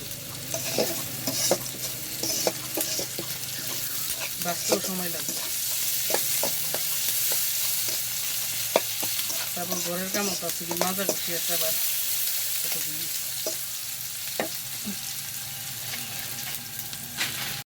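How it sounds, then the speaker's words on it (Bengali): Onions fry in a pan with continuous loud sizzling and crackle, close by, while someone talks over it at times and occasional clinks and stirring scrapes cut through. "পেঁয়াজ ভাজা হয়ে গেছে, ফেলছি দিই না ওকে"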